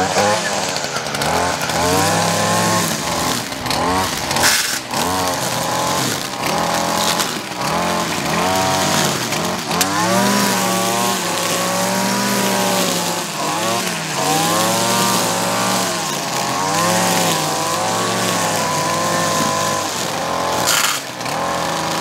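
A Stihl FS 56RC brush trimmer's two-stroke engine runs close by, its buzzing whine rising and falling steadily as the throttle is worked through repeated revs.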